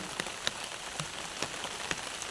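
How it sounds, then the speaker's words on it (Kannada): Steady monsoon rain patters down with wind, with scattered louder drops tapping a surface now and then; no voices, just continuous wet hiss. "ಮಳೆ ಬರ್ತಾನೆ ಉಂಟು ಇವತ್ತು ಫುಲ್ ಡೇ ಮಳೆ ಅದರೊಟ್ಟಿಗೆ ಗಾಳಿ"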